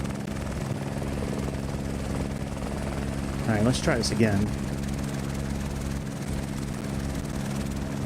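A helicopter's rotor thrums in a steady low drone inside a flight simulator game at a Cape Town airport, distant but clearly present, while someone speaks briefly over it.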